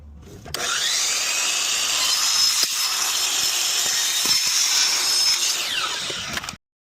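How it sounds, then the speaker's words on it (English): A miter saw cuts through soffit material in one continuous, loud, close cut lasting several seconds, with a steady whine and rasp before the blade winds down abruptly. "the miter saw is an effective tool for cutting your"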